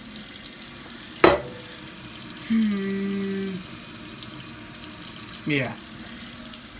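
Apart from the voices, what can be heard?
filling rice pot with tap water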